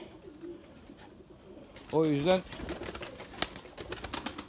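An Erzurum White breeding pigeon in a coop gives a short throaty coo close by, between stretches of quiet talk and faint background rustling.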